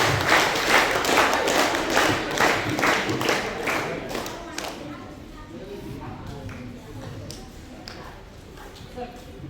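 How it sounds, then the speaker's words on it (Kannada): An audience at a government higher primary and high school claps in thanks after a theatre troupe's seminar, a loud burst of rapid applause that fades out over several seconds while a speaker keeps talking. "ಚಪ್ಪಾಳೆ ಮೂಲಕ ಅವರಿಗೆ"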